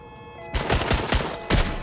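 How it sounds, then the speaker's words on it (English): Rapid gunfire in the video game Watch Dogs Legion, a burst of loud, close shots in quick succession after a brief quiet lead-in, with a heavier final crack. "Shots fired! Shots fired!"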